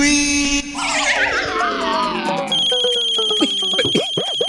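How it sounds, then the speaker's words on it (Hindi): A phone rings in a Hindi family TV comedy scene: a loud, bright electronic ringtone of warbling, sliding tones that settles into steady repeating beeps, heard up close with no talking over it. "फोन आ रहा है"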